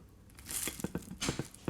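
A bite into a crispy, cheesy quesadilla filled with smoked beef shank, giving a few sharp crunches and crackles in quick succession, close up with no talk.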